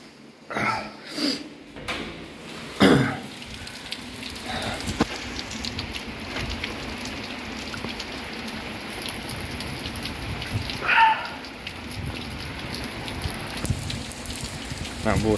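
Rain falls during an approaching storm: a steady, broad hiss of drops on surfaces continues throughout, with a few louder thumps and gusts near the start.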